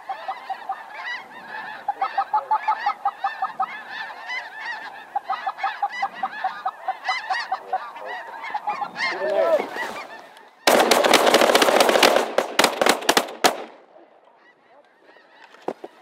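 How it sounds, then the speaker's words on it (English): A large flock of snow geese honks continuously, dense overlapping calls filling the air at close to moderate range, joined by a sudden burst of loud, sharp shotgun blasts near the end before the honking thins out. "More geese coming."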